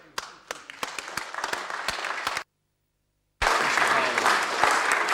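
Applause fills a council meeting chamber during an extraordinary council meeting: dense clapping with sharp individual claps, a sudden silent gap, then fuller sustained applause resumes.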